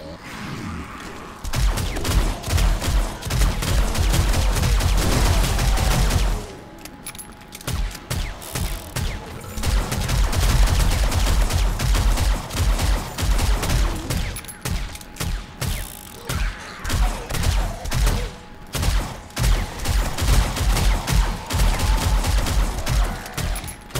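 Gunfire from a player's backup gun in the survival game 7 Days To Die during a horde night defence of a titanium-upgraded base. Loud, rapid bursts of shots come in long runs, broken by short pauses, and a few thuds sound in between.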